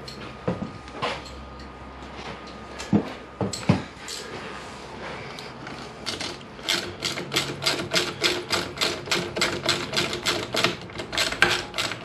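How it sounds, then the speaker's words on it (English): A ratchet working a swingarm linkage bolt on a 1998 Kawasaki ZX9R, starting with scattered metallic knocks and then settling into a fast, steady run of close clicking strokes. "I need a ratchet for the other side."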